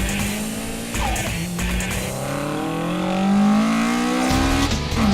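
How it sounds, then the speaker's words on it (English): A car drifts onto a street, its tires squealing in long rising and falling wails over a loud, revving engine, close and continuous the whole time. "He floored the pedal, drifting onto Glenwood Street."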